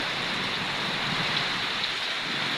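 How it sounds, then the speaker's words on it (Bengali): Heavy rain pours down in a dense, unbroken hiss, steady and enveloping from start to finish with no voices. "এত পরিমাণ বৃষ্টি হইতে আছে মানে প্রচুর"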